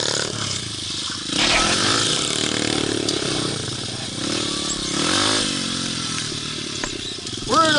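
A pit bike engine revs hard while doing wheelies in deep snow during a May blizzard, loud close surging whine rising and falling with throttle, a voice briefly heard.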